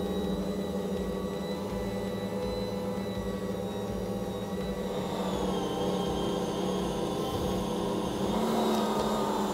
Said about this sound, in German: Dann Küchenmaschine starten auf kleiner Stufe. Dann nach ein paar Minuten das Tempo erhöhen und den Teig schön auskneten.